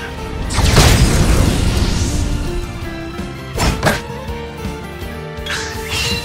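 A fire spell attack from the Octopath Traveler II role-playing game hits with a heavy booming burst, then a second sharp impact around the middle and a lighter whooshing flare near the end, loud and close, with no talking.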